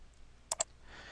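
Two quick, faint mouse clicks close together on a computer, against near silence.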